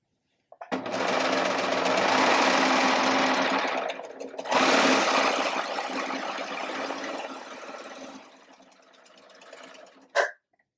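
A serger runs along a fabric edge in a quilting project, giving a loud, fast mechanical whir in two long runs with a brief pause between, fading lower near the end before a sharp final thump.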